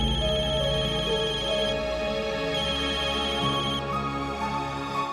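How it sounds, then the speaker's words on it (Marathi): A mobile phone rings continuously with a bright, repeating melodic ringtone, steady and fairly loud indoors, with no talking over it. "सुदर्शन, फोन वाजतोय तुमचा."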